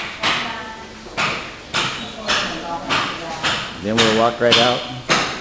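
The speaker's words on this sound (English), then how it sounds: "Sounds like someone's hammering on something." Steady hammer blows ring out near a hotel reception and dining area in Boracay, Philippines, about one strike per second, loud and sharp, with someone speaking over them.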